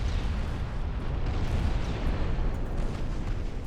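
Naval gunfire and explosions from the Ultimate Admiral Dreadnoughts warship game form a dense, continuous rumbling roar of overlapping booms throughout, with no speech.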